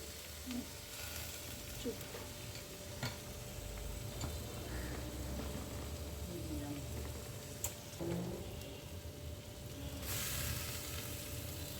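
Salted, squeezed snake gourd frying in oil in a pan, giving a steady low sizzle throughout with a few faint clicks, fairly quiet and heard alone.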